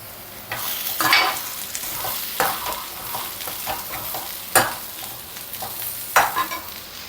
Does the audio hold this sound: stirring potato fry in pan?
yes